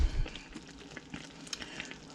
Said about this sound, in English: You can let them sit and simmer for a little while